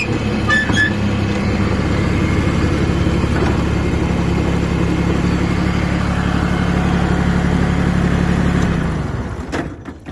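An Iseki SGR19 diesel garden tractor mower runs with a loud, steady low engine drone close by, then winds down and cuts off near the end.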